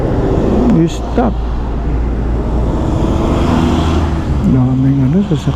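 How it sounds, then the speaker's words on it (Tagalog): Steady rumble of road traffic with many vehicles, heavy low engine noise continuing throughout while someone speaks over it in short phrases. "Daming sasakyan."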